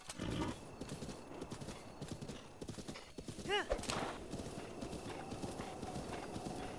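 Horse hooves clip-clop steadily in the Zelda: Breath of the Wild video game, with a brief whinny partway through, all under a German-speaking player's ongoing commentary.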